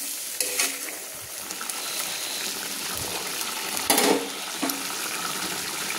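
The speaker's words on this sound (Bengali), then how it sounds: "দিয়ে আবারও ভালো করে আমি নেড়ে নিলাম" Chang fish curry stirred in a pan, a soft steady sizzle with scraping spoon strokes and a couple of sharper clatters near the end, close and continuous, no voices.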